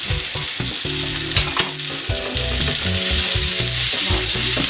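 A tomato and herb mixture cooks in a pan, with a loud, continuous sizzle and bubbling close by over steady background music, with no talking.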